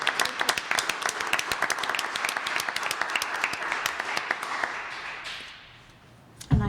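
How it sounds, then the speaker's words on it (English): Audience applause at a town board meeting for local football champions, dense steady clapping that carries through most of the stretch before thinning out near the end. "Let's give them a round of applause"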